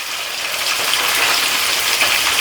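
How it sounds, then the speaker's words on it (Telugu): A loud, steady hiss of oil poured into a hot pan for frying fish, close and unbroken for the whole moment, with no talking. "గిన్నె వేడైంది నూనె పోసుకోవాలి"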